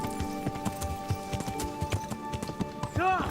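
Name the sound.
roan horse hooves in the video game Kingdom Come Deliverance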